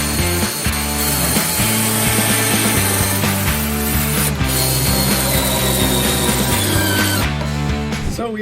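Power drill with a Rotorazer bit set driving screws into wood for a bat house, a loud continuous whirring drone with shifting pitch and a brief pause near the end, no voices.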